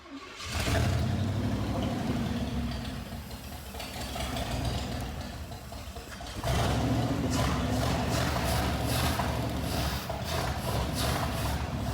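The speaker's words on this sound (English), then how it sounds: "when I got it to start, it was really chattery" An old Cadillac 500 engine runs loud and close with a rough, chattery idle, its noise building again after a brief dip around the middle.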